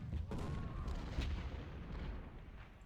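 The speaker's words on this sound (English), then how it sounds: "And there's the rest of the Union artillery" Faint, distant artillery fire in a Civil War strategy game at the Battle of Malvern Hill, with low rumbling booms under a steady battlefield din.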